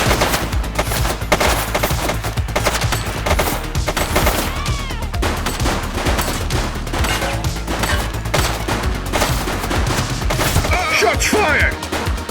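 Sustained gunfire in the police video game The Precinct, with dense overlapping automatic bursts and loud rapid shots continuing throughout, with a shouted voice mixed in.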